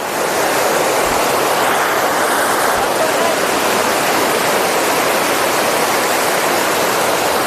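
Water rushing over the overflowing Kareda dam, a loud, dense, unbroken roar that holds steady throughout like heavy surf.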